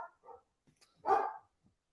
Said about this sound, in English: that's my German Shepherd barking in the back